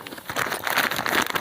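A plastic bag holding bolts for electrical switches and receptacles being handled, close crinkling and rustling of plastic in quick irregular bursts.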